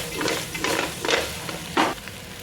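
Cut dhokla pieces being stirred in a tempering pan of hot oil: a sizzle with four or five distinct scraping spatula strokes, close and fairly loud.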